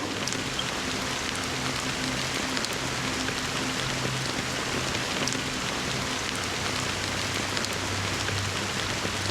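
Steady rain falling in the video game Honkai Star Rail, a dense continuous patter of drops on surfaces, even and moderately loud throughout with no talking.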